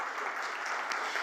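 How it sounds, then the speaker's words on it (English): An audience applauds at the opening of the Enterprise Security Summit 2024. The clapping is a soft, even, continuous wash, faint and distant, with no voices over it. "Can we please have a huge round of applause?"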